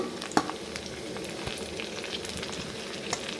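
Garlic sizzles and crackles in hot oil in a pan, a close, steady frying hiss with a few sharper pops and stirring sounds.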